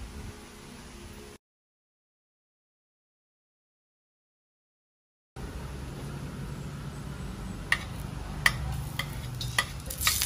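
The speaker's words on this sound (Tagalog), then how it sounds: "Tayo ay magigisa muna ng ating mga gulay. Bawang sibuyas. Carrots." Garlic, onion and carrots sautéing in a pan, a steady sizzling hiss with a few sharp clicks of stirring toward the end, broken by a stretch of silence early on.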